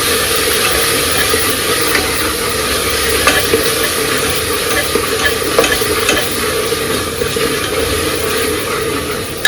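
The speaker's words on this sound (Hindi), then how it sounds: "अब इसे थोड़ी देर के लिए करते हैं भुनाई" Tomato masala for dal khichdi sizzles loudly in hot oil while it is stirred and fried, a dense, steady crackle with faint scraping strokes throughout and no talking.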